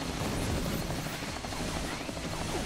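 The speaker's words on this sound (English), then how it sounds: "This is just an attack helicopter shooting a really lame, easy to dodge bullet pattern at me." Attack helicopter in the Mighty No. 9 video game, a steady dense rotor-like drone with gunfire-style crackle, loud and continuous throughout with no talk.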